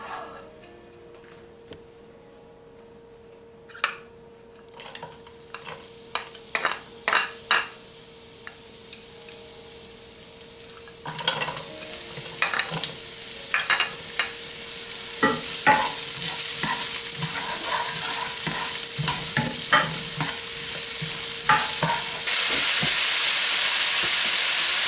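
Meat browning in canola oil in a frying pan, with a hiss that starts faint, then brings repeated spatula scrapes and stirring clatter before building into a loud, steady sizzle near the end.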